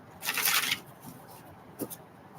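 Tarot cards are riffled in one quick, crisp burst, followed by a short tap as the deck is squared up.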